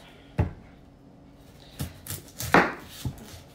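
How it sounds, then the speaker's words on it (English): Knife chopping an onion on a board: a handful of separate, sharp chops spaced irregularly, close and fairly loud. "we're going to chop an onion"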